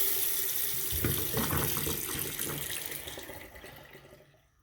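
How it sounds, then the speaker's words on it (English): Water runs from opened hot and cold faucets in a bathroom as a household plumbing system is drained. It is a steady, close rush that fades out toward the end. "open the hot and cold. That is going to allow water to start draining."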